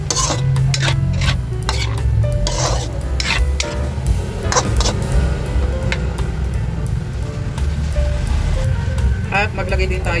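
Chicken liver stirred with oyster sauce in a pan, spoon or spatula scraping and rubbing against the metal in irregular strokes over a low continuous sizzle, close and fairly loud.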